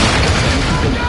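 A friendly mortar strike in Warzone fills the whole moment with a dense, loud rumbling roar of overlapping explosions, continuous and close.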